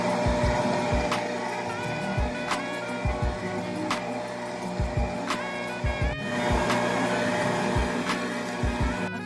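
An electric mixer on medium-low beats eggs and butter for orange creamsicle cookie dough, with a steady motor hum broken by rhythmic knocking as the beaters hit the bowl, close and loud with no talking.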